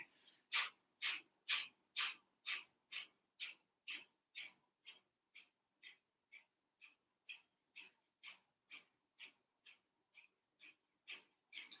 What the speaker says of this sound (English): you can begin with your nasal breathing